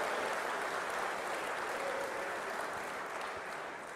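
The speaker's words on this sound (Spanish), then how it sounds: "distingamos a nuestros compañeros con un aplauso" An audience at a national party congress gives a dense, steady round of applause, a loud unbroken roar of many hands that tapers slightly toward the end.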